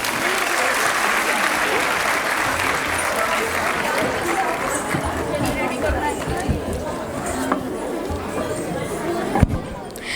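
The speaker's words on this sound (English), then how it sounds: "A round of applause for the team." Audience applause at a school carnival and investiture ceremony, sustained dense clapping with crowd chatter mixed in, loud and steady before tapering near the end.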